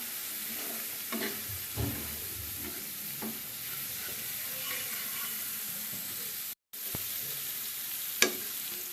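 Ground cumin, turmeric and chili powder fry in a pan with a steady sizzle, broken by repeated scraping stir strokes, close and moderately loud, with a brief dropout near the end.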